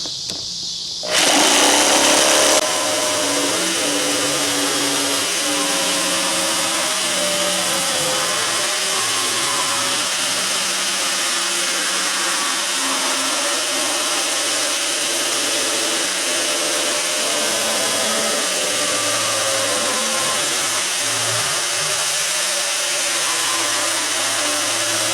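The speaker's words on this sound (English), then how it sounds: "I get to go cut out a circle here." A power tool cuts a circle out of material for a shield, running loud and steady for the whole stretch after a brief start, with no talking.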